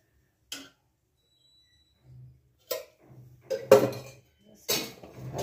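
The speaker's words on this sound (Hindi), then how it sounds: "गैस को चालू कर देते हैं" A gas stove being switched on in a home kitchen, a few sharp isolated clicks of the igniter spaced over several seconds, with a faint low hum of the flame catching between them.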